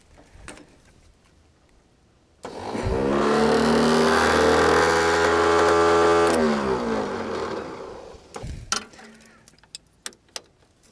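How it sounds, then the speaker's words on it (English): A truck's starter motor, powered directly through jumper leads, cranks loudly and steadily for about six seconds in a bush setting, beginning and ending abruptly, with faint clicks and quiet noises before and after. "I'll put power straight to the starter motor."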